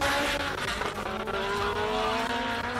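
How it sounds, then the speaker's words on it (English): A classic race car charges up a hill climb course, its engine roaring loud and sustained with rising pitch and tire squeal, close and dominant throughout. "we can hear that car right through our soundproof commentary box"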